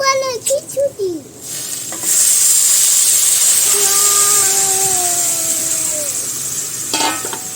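Water poured into a hot pan of fried rice sets off a loud, steady hiss of steam that starts suddenly and holds for several seconds, with brief voices and clatter just before.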